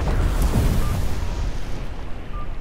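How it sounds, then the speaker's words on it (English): Fireworks go off in the video game NEO The World Ends with You: a loud, rumbling booming burst that swells early and then decays into a sustained roar, with no voices. "They're shooting off fireworks!"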